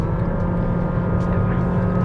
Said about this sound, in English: that's a very loud engine note